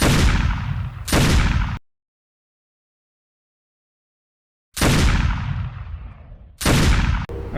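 Loud single sniper rifle shots ring out in an Unreal Engine 5 game demo, each sharp blast followed by a decaying echo tail, with two pairs separated by a few seconds of silence.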